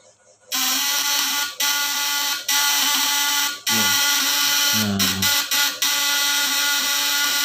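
High-voltage fish electroshock device at maximum power, a loud steady high-pitched electrical buzz and whine that starts abruptly and runs continuously, with brief dips and stutters near the end, no speech.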